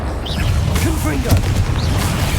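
A Confringo fire spell erupting in the Hogwarts Legacy video game: dense, rumbling blasts with low booms that roll continuously through the moment, mixed under in-game voices.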